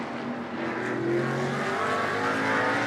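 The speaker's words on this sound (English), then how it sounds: "And away goes Valdeno Brito, now at the wheel of the 77" A GT race car pulls away from a pit stop at a Blancpain Sprint Series round in Moscow. The engine rises in a steady, building roar that gets louder as the car accelerates, with no voices.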